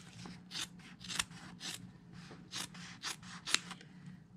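Scissors cut apart pieces of quilt fabric in a row of crisp, close snips, each a short rasping cut, repeating at an uneven pace with quiet handling sounds between them.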